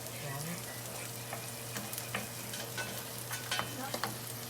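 Omelet ingredients being mixed with steady scraping and tapping against a bowl over a constant background hum, close up and fairly faint, with a voice briefly heard.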